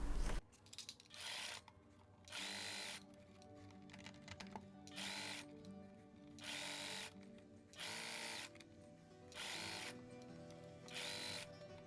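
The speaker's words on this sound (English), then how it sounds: "I have my machine threaded in a fuchsia polyester, and I have a normal needle, a 9014." A sewing machine threaded with fuchsia polyester thread and a normal 90/14 needle runs in repeated bursts of rapid stitching, each about a second long, separated by short pauses, close and clear with no talking.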